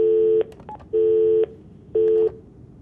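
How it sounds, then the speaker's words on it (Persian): Telephone keypad tones as a number is dialed: three clear steady electronic beeps of differing lengths separated by short gaps, loud and close with no talk. "یک تلفن هست که من این تلفن رو بگیرم"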